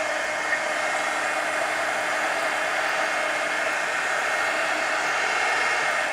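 A hair dryer blows continuously on the back of a paper coloring page, a steady close whooshing hiss that holds at an even level throughout.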